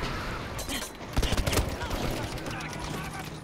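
Battlefield V gunfire, a rapid cluster of close shots bursting out in the middle amid continuous battle noise, with voices talking over the action.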